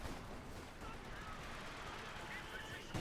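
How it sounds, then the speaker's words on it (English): Machine-gun fire in a Company of Heroes 2 match, running as a steady dense rattle of battle noise throughout, with faint distant shots mixed into the constant wartime din. "Sort of firing the machine gun, and there you go."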